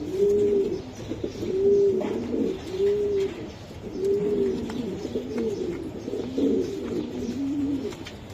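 Pigeons at a pigeon farm, including a Gribas pair, coo repeatedly in soft, low, throaty phrases close by, the calls rising and falling in overlapping rounds with little background noise.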